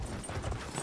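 Horse hooves clip-clop in the video game Battlefield 1, a brief, steady run of muffled hoofbeats close by under game background noise.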